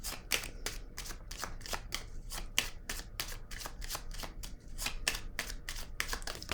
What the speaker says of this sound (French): Je vais piger une carte sur la fin, la transformation